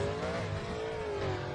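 Small buggy car engine in Beach Buggy Racing, a continuous buzzing whine that rises and dips slightly in pitch, loud and close throughout the short burst.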